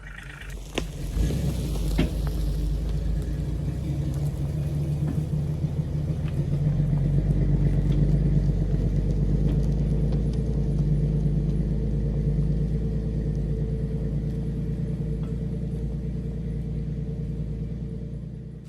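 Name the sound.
vehicle dragging a chained log down the road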